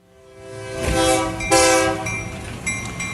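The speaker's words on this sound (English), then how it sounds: "Toot, toot, train coming." A loud, sustained train horn sounds in a chord, swelling and holding for several seconds with the rumble of the train beneath it.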